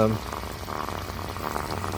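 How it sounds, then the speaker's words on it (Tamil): Water pours out of the outlet pipe of a solar-powered BLDC screw-type pump and falls into the water below, making a steady, continuous splashing rush with no break. "இந்த மாதிரி தான் தண்ணி போய் ஃப்ளோ ஆகும் அங்கே போய் விழுந்துட்டுருக்கு பாருங்கள்"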